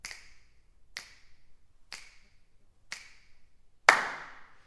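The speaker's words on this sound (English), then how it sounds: "That's one of the hardest things to record is hand claps in a big room" Hand claps and finger snaps in a large recording studio room: four evenly spaced crisp snaps about a second apart, then one louder clap ringing out with room reverb.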